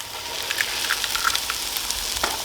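Fresh farm eggs hit a hot pan and sizzle steadily, a close, bright crackle with scattered pops and spits and no talking.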